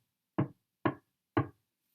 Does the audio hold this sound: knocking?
yes